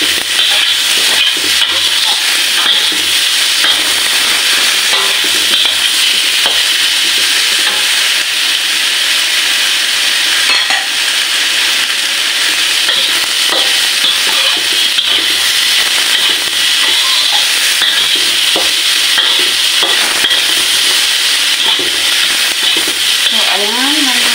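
Water rolls at a steady boil in a pot for sinigang na bangus, with tomato added, making a loud, continuous hiss and bubbling that stays even throughout, with no talk.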